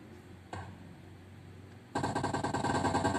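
Gunfire in the video game PUBG, played through a car's audio system, comes in as a loud rapid burst of repeated shots near the end after a quiet stretch with one single report.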